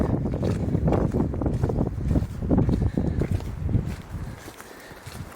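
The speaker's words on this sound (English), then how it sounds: "We've got some wind building too." Wind gusts build on snowbound Denali, a close, buffeting rumble with uneven surges that batter the microphone and ease off toward the end.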